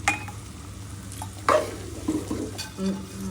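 A bitter gourd and potato curry with small fish is stirred in a frying pan, with scraping spatula strokes and soft clatter over a steady sizzle, close by.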